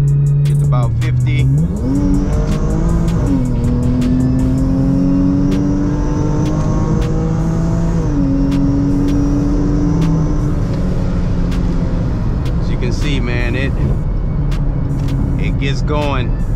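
A Mopar 3.6 V6 fitted with a Ripp supercharger pulls hard onto a highway from about 50, engine note climbing through gears with supercharger whine, loud and continuous from inside the car while someone talks over it.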